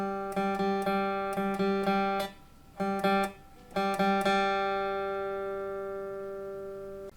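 Guitar notes played on the third string as a slow beginner exercise, clean plucked tones in short groups with pauses, the last note ringing out and fading, no voice.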